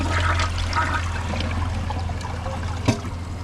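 A toilet, a Kohler Highline Arc or an American Standard Champion 4, flushes a grocery bag and microfiber towels with its handle held down, giving a loud, close rushing of water through the whole span with a small knock near the end.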